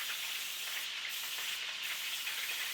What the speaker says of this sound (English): I have some olive oil cooking spray here that I'm just going to spray on top of these